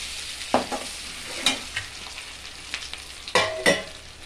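Finely chopped ginger and green chili frying in oil for pongal, producing a continuous sizzle punctuated by several sharp spatter pops and stirring clicks.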